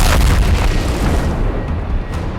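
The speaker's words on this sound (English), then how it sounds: "This means their van can be very carefully blown the fuck up, freeing their hostage" A van blown up in The Expendables 3, a loud, deep, close explosion with a rumbling roar that holds and slowly fades over a couple of seconds, no voices.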